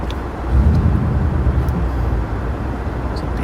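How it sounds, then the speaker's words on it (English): A big, loud car passes close by on the road, a deep rumble that swells quickly and then settles into a steady drone. "It's a big loud car."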